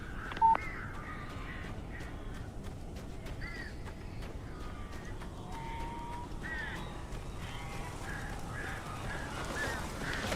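Crows cawing in the video game Alan Wake, several harsh caws scattered across about ten seconds, moderately close, over a steady low rumble of background ambience.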